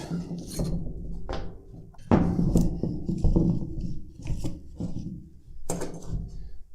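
Clamps being worked off the wrapped exhaust of a Brixton Felsberg 125 motorcycle: close, irregular metallic scrapes, rubs and knocks in uneven bursts, with a few sharper clanks standing out.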